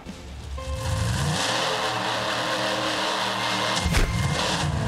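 Monster truck engines revving at the start line in the Monster Truck Championship video game, building from a low rumble into a sustained loud roar, with a sharp burst near the end and no voices.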